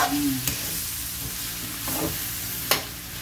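Chopsuey vegetables being stirred in a hot pan: a steady sizzle with a couple of sharp utensil clicks against the pan and a soft scrape, heard close and without talk.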